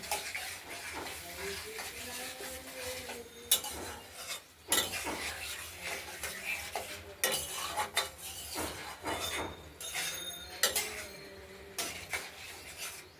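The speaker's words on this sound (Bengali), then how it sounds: "এবার মশলাটা কষিয়ে নিই।" A spatula scrapes and clinks around a pan while spice masala with softened tomato is sautéed, irregular metallic stirring strokes, fairly quiet, with a voice talking intermittently.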